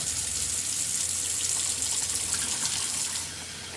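Steady running water from an RV faucet during winterizing, a continuous broadband rush that eases slightly toward the end, with no voices.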